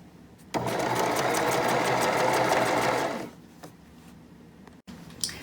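A sewing machine stitches the second armhole seam of a knit dress with a 1/4 inch seam allowance, one steady run of about three seconds before it stops, followed by quieter handling noises.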